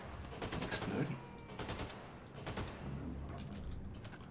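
Rapid bursts of gunfire in a co-op video game crackle in several close, loud clusters, with short gaps between volleys and a steady background din.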